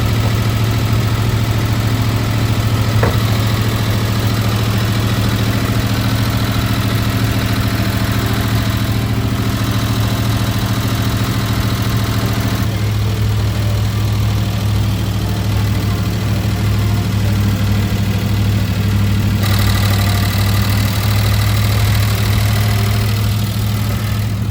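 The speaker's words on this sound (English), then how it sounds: "It's revving so high just idling here, I don't even want to put it in gear." A Ford Thunderbird V8 engine idles fast at high revs under the hood, a steady loud mechanical drone with continuous low rumble and vibration, unbroken for the whole stretch with no talk.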